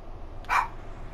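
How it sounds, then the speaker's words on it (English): A dog gives a single short bark in a video game, sharp and sudden against quiet background noise. "Quick, he's attracted by the dog."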